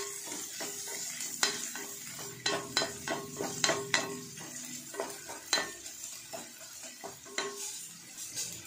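Onions frying in a pan with dried red chillies, a steady sizzle broken by frequent sharp scrapes and clinks of a spoon stirring against the metal, close and moderately loud throughout.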